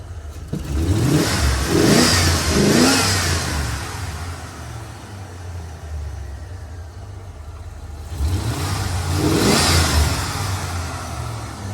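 An old Ford car engine running near the microphone, rising to two loud revs separated by several seconds of steady running in between.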